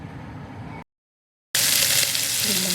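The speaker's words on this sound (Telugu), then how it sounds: "తాలింపు గింజలు వేగనియ్యాలి" Tempering seeds sizzle and crackle steadily in hot ghee, growing louder and brighter after a brief silent break, with continuous frying hiss.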